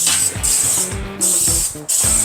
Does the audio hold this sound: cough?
no